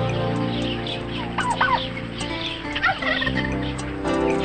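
Turkeys on a farm gobble in loud, rapid, warbling bursts over a constant background of other birds clucking and calling nearby.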